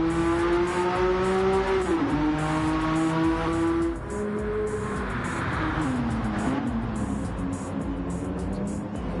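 Race cars lapping Monza in Gran Turismo 7, engines droning steadily with pitch rising and dipping through gear changes and corners, several cars blending together in a continuous loud engine roar.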